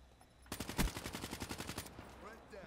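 Rapid automatic gunfire from an extended-magazine weapon in the video game Black Ops 3: a single sustained burst of about fifteen evenly spaced loud shots lasting over a second, then a fading tail.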